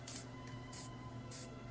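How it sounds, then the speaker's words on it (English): Spray paint hisses onto a waterfall painting in three short bursts spaced evenly apart, misting white paint. A low steady hum runs underneath and no one speaks. "So we are spraying directly onto the painting"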